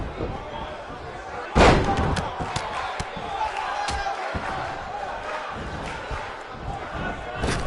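Crowd cheering in the WWE 2K19 wrestling video game, a sustained arena roar with a sudden loud burst early on, under ongoing commentary speech.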